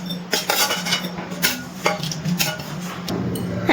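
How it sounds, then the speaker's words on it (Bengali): Metal spoon scraping and clinking against a pan and plate as dry-roasted whole spices, cumin and coriander among them, are tipped out of the kadai, a series of sharp clanks and scrapes close by in a home kitchen. "এবার একটা প্লেটে তুলে নিচ্ছি।"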